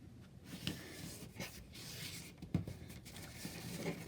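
A paper circle is folded and its creases pressed down, giving soft scattered rustles and scraping sweeps over several seconds, close by and fairly quiet.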